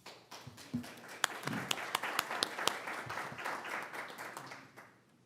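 A modest group claps for a few seconds at a city council meeting, scattered individual claps audible, swelling then fading out.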